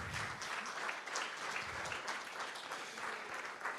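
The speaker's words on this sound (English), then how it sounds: "Can we give another round of applause?" A crowd applauds steadily, a dense wash of clapping heard from a moderate distance, sustained for a few seconds.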